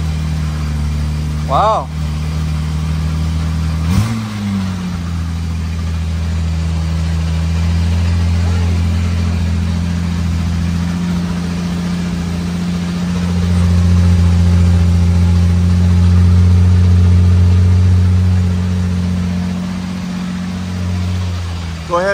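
A 1962 Jaguar XKE starts from cold: a sharp crank catches into a loud, close engine that settles into a steady idle, swelling with a higher-revving stretch partway through, while people briefly react over it.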